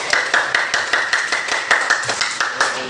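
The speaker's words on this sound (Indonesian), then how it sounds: "Tepuk tangan juga." A group of students in a classroom clapping together in a steady rhythmic beat, about a dozen even claps spaced evenly over a few seconds, close and loud.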